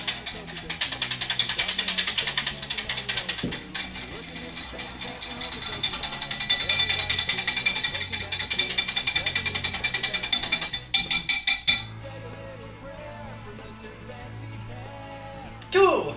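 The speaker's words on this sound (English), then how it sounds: "Whisk until it is smooth." Flour is whisked into a cup of milk until smooth, giving a steady, busy whirring and scraping that runs loud for about eleven seconds, then continues more quietly to the end.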